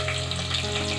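Green chilies and onion fry in hot oil for tomato rice, giving a steady, dense sizzle that runs close and loud for the whole short moment with no voice over it.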